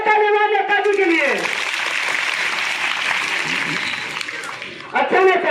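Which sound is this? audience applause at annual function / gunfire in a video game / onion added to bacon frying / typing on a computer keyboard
audience applause at annual function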